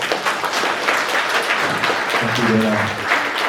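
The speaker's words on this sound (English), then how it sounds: "make sure you give him a nice round of applause to get going" Audience applause welcoming a speaker at a security conference talk, dense clapping throughout while a voice speaks briefly over it near the end.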